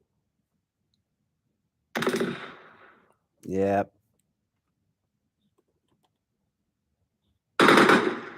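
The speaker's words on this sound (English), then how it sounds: "That's a gunshot sound effect" Gunshot sound effects ring out as separate loud, close blasts, the second a different type with a ringing tail, separated by silence; a person briefly speaks.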